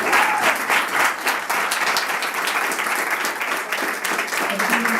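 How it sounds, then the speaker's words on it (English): Sustained applause from a large crowd, dense and steady clapping filling the room, with a few voices faintly mixed in. "Let's give her a round of applause."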